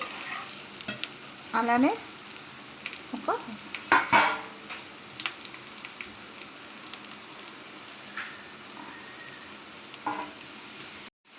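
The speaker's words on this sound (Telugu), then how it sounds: "ఇప్పుడు దీంట్లో కారానికి తగినంత ఎండుమిర్చి వేసుకొని ఫ్రై చేసుకోవాలి." Dried red chillies and onions fry in a pan for an onion chutney, a soft steady sizzle broken by a few scraping stirs and clinks of the spatula; a voice speaks briefly.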